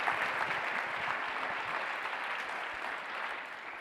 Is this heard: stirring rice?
no